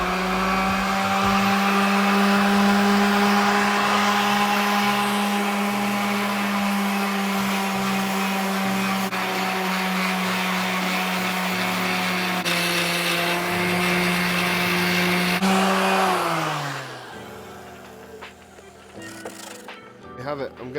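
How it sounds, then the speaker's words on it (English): A Dremel rotary tool grinds a groove into an old skateboard, a loud, sustained high whine that holds steady, shifts pitch slightly partway through, then winds down and cuts out near the end. "I get my Dremel and I get a groove going down in here"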